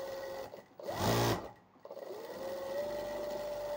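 A sewing machine runs a short, steady burst of stitching on a blouse being fitted, close up and clear, then stops and leaves quiet room noise.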